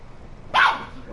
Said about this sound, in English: get down, crazy little dog